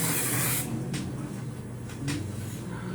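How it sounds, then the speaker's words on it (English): Aqua Net hairspray sprayed from an aerosol can: a loud, close hiss in the opening half-second, then quieter intermittent spritzes over a steady background hum. "Okay, so I'm gonna spray,"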